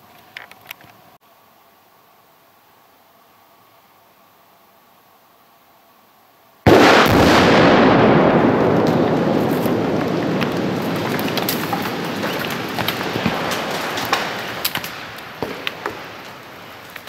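A 65-hole rock blast in a quarry, fired mostly with deck cord plus some non-electric initiators: after several seconds of near silence, a sudden loud boom erupts, then a long rumbling roar of falling rock slowly fades.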